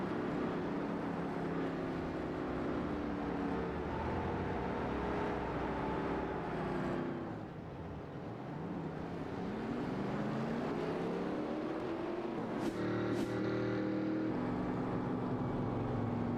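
Several Next Gen race cars lapping North Wilkesboro in the iRacing sim, engines droning and shifting pitch together as they pass, with a sharp rising whine near the end.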